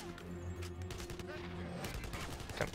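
Gunfire in the Xbox 360 shooter Blackwater, with repeated shots from a combat firefight. It sits under a steady bed of game music and ambient noise, and someone talks over it.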